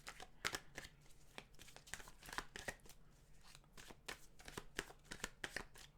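Tarot cards being shuffled close and quiet, a steady run of soft riffling slaps and flicks that repeat in quick, rhythmic bursts.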